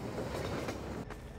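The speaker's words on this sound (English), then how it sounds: "Train." A train rolling past in the Half-Life 2 VR mod, a steady loud rumble with clattering wheel noise throughout, alone with no talk.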